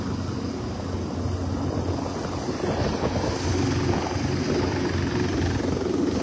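A helicopter lands at a sports ground in Progreso during a presidential visit, its rotor and engine making a steady, loud, droning roar that holds throughout at close range.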